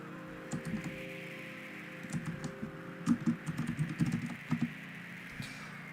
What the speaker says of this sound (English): I'm still getting used to my new keyboard